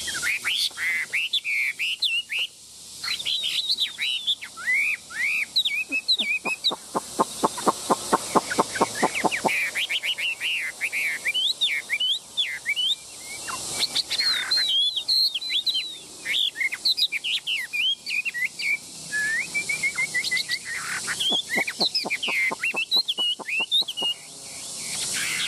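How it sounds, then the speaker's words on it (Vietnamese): A songbird chirps and sings almost nonstop, close and loud, with rapid trills, quick repeated notes and bright whistled phrases, and no talking. "Chim thần anh em thoải mái cầm bón sâu dế ăn nhé các bác nhé, rất là dễ chơi."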